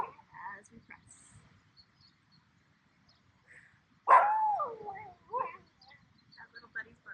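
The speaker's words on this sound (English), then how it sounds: "That little buddy's barking" A small dog barks once up close during a quiet outdoor Pilates class by Lake Garda, with a few short yips and brief soft talk around it.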